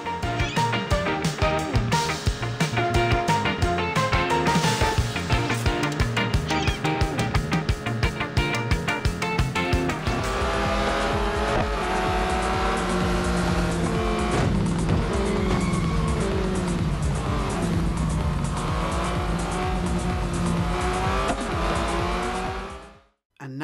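Racing-game audio from Beach Buggy Racing 2 on an Android TV box: buzzing buggy engines and tire squeals over a steady, busy music track, continuous and fairly loud for the whole stretch before cutting off.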